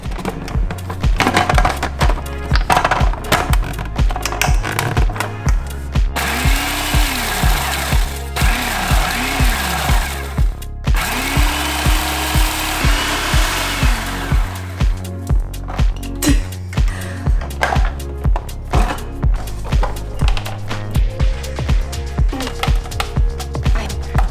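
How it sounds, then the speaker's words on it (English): A food processor grinds cornflakes in loud, rhythmic pulses, with a rough, rattling motor drone that chops in regular bursts for a long stretch. "Because I'm using cornflakes, I'm going to process it first before I add the butter."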